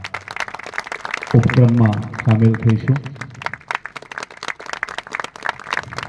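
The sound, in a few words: audience clapping in welcome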